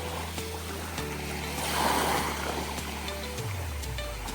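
Small, gentle waves wash steadily onto a calm beach in Marinduque, a soft continuous surf wash that swells briefly in the middle, with no voices.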